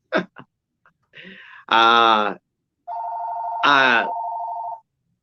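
Hotel room telephone ringing with a sustained electronic tone, loud and close, overlapped by a voice making short exclamations and drawn-out vocal sounds.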